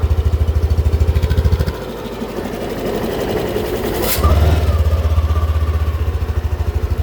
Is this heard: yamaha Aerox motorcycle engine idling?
yes